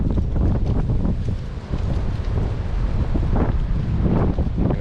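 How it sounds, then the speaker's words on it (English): Strong outdoor wind on a windy day in Indiana near a trailhead by the water, a loud continuous roar buffeting the microphone with gusty surges and no speech. "It's not a sound effect, that's the actual wind."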